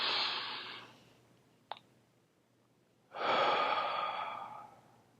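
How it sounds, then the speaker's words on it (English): Two deep, audible breaths during a breathing exercise. A long exhale fades out, a small click follows, then after a pause a strong, close inhale rises and slowly tapers off, with no speech. "So we're gonna breathe in."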